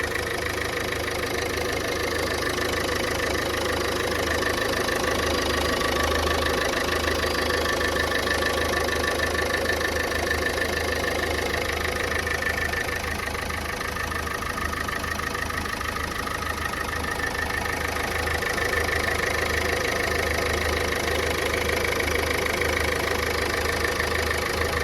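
A Ford EcoSport engine idles steadily after an oil leak repair, a close, continuous low mechanical hum with a faint knock, with no talking.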